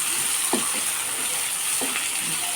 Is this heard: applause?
no